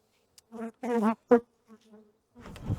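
Honey bees disturbed during a spring hive inspection, scattered close buzzes that rise and drop in short bursts with quiet gaps between, ending in a noisier rustle.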